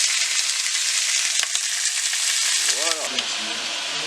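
Turkey pieces brown in a casserole with a continuous bright sizzle close by, while a brief sliding tone rises and falls partway through.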